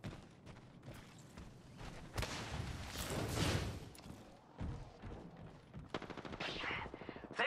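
Gunfire in Apex Legends during a Season 18 match: bursts of rapid automatic shots with sharp cracks and a quick stuttering volley near the end, under faint background talk.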